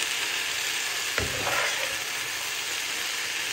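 Chopped green chillies sizzle in a hot pan with a loud, even hiss, broken by a single stirring knock and a brief scrape partway through.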